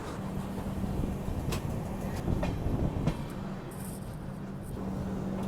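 The MGR Chennai Central–Nagercoil Express approaches at a station, heard as a faint, distant rumble with a steady low hum and a few light clanks, no voices.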